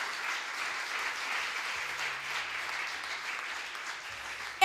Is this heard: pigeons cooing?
no